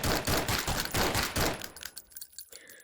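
A gun fires in the VR game Scrapper VR as a rapid, dense burst of shots. The rattling volley lasts about a second and a half and trails off into scattered clicks and clatter.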